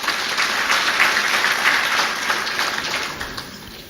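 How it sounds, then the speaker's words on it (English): Sustained crowd applause at an army chief of staff's annual conference, a steady wash of many hands clapping at even loudness, tapering slightly toward the end. "A round of applause for him, please."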